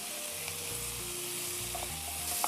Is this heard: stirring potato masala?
yes